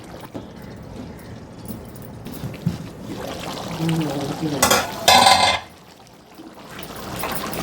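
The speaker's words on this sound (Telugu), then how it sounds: "మధ్య మధ్యలో ఇలా కదుపుకుంటూ ఉండాలండి కదుపుకుంటే ముక్కలు అటు ఇటు కదిలి ఉప్పు కారం బాగా పడుతుంది" Andhra-style fish roe curry being stirred in a pan, with a steady wet scraping and sloshing near the mic that swells into a louder burst of stirring and then settles, with faint voices in the background.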